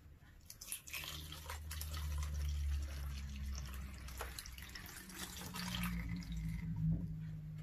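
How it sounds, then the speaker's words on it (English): Cold water tinted with food coloring pours into a container for a home science experiment with glitter, a steady close liquid gush with splashy dribbles running throughout. "Now we're going to pour in the cold water with food coloring."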